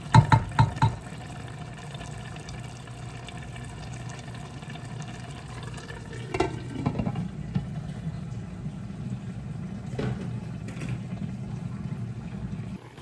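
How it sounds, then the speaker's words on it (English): A pot of Haitian-style spinach with beef and shrimp simmers in water, giving a steady low bubbling hum, with a few sharp knocks at the start and scattered clinks later. "I'm just gonna let the water simmer down."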